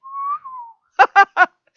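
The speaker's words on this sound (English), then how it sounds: "that's me trying to whistle" A person whistles a single sustained tone, then three short, quick whistled notes follow after a pause, close and clear with silence around them.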